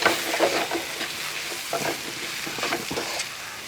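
Chili powder, salt and spices being stirred in a frying pan for an egg chilli dish, giving a soft, steady sizzle with scraping spoon strokes at an uneven rhythm, close and moderately quiet, with no talking.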